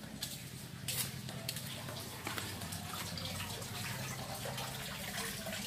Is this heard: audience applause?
no